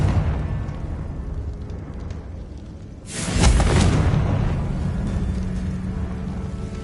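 Confringo blasting spell from a Harry Potter video game going off as a single loud burst midway, bright and sharp at onset, then a rumbling tail over steady game ambience.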